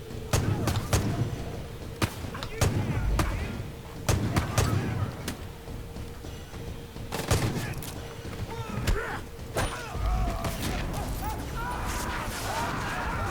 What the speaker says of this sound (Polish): Ta chyba amunicja wybuchła teraz.